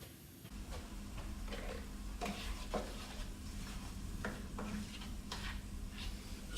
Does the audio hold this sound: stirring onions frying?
yes